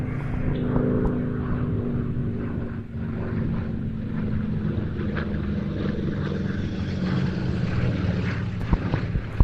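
A Pratt & Whitney Twin Wasp radial-engined fighter of just over 1,000 horsepower flies at a Duxford air display, its throaty propeller drone loud and continuous throughout without any speech.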